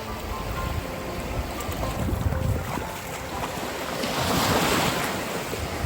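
Ocean waves roll and break at Nagtabon Beach, a broad hissing surf mixed with wind buffeting the microphone, building into a louder wash toward the end with no voices.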